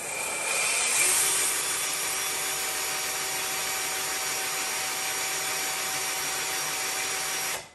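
A drill spins an engine valve against its seat with gritty lapping compound during a Kawasaki FR730V small-engine rebuild, giving a steady, close whirring grind that runs unbroken for several seconds before stopping.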